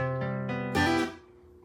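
A guitar chord is picked note by note, with a quick hammer-on adding a bright lift near the end before the chord rings out and fades.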